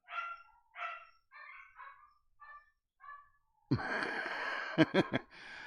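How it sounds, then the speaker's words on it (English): Four dogs bark at windows in overlapping bursts, fairly close, after a run of short chirpy sounds; the barking grows loud and layered near the end. "4 dogs barking at the windows"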